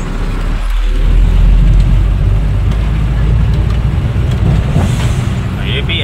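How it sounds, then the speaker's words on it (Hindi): A car rumbles past along a highway near Bhuj, a steady, loud roadway drone of engine and tyre noise under a man's speech, with a brief higher whine near the end. "वो गाड़ी देखिए कार एकदम साइड में से निकल रहा है"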